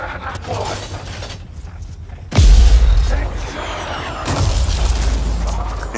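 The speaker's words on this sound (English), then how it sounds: "Time to use that mortar." A mortar fires in a combat video game: a sudden heavy boom and crack partway through, followed by rumbling battle noise, loud and close, with no talk over it.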